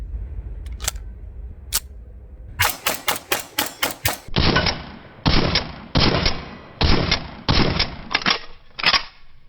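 Cosaint Arms COS21 double-stack 1911 pistol fired outdoors, sharp loud reports in quick strings, a rapid volley of single shots followed by spaced bursts, with no talking.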